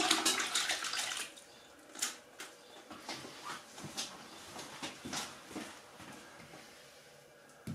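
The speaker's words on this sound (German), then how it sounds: "ihr müsst das auch hier zwischendurch mal ausspülen, weil das gesättigt ist mit Reiniger" A cleaner-soaked sponge is rinsed out under running water, giving splashy, uneven bursts of gurgling and dripping that rise and fall over several seconds, loudest at the start.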